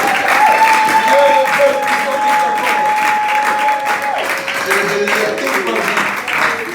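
A church congregation applauds and cheers throughout, a continuous loud wash of clapping mixed with shouts and voices, including a sustained sung or called note over the crowd.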